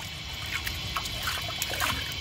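Water is splashed by hand down the inside walls of a 1991 Kohler San Raphael toilet bowl, a close, continuous pouring and trickling with small splashes throughout.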